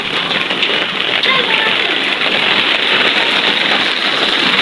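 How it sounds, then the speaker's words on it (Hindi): Steady rain falls during a thunderstorm in the hot season, a close, even hiss of drops striking surfaces that stays constant and fairly loud from start to finish. "बिजली गरज रही है और बारिश हो रही है"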